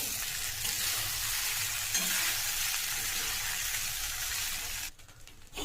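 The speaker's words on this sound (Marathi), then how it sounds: "आता भिजवलेले पोहे टाकून घेऊया" Soaked poha tipped into a hot pan for kanda poha and stirred, giving a steady close sizzle and frying hiss that holds for about five seconds before dropping away at the end.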